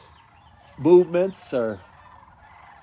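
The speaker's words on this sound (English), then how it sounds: "I think I got a flock of geese flying by" A flock of geese flying by gives three short, harmonic honking calls in quick succession, moderately close and clear against a quiet background.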